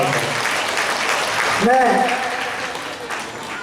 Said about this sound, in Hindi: बात जोरदार तालियों के साथ